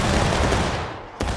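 A rolling musket volley from massed infantry in the American Civil War game War of Rights: dense, sustained crackling gunfire that tails off, then a sharp fresh report near the end.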